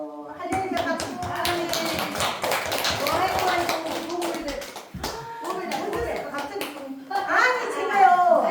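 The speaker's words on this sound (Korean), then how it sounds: "할렐루야 박수" A church congregation claps hands together in a lively, rhythmic burst, with sharp close claps over a broad wash of clapping. Voices, including children's, talk and call out underneath.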